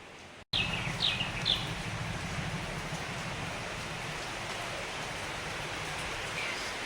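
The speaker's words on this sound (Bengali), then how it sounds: "সুন্দর বৃষ্টি আর পাখির ডাকের সাথে" Steady hiss of rain fills the clip, with a few high bird chirps near the start and one faint call later.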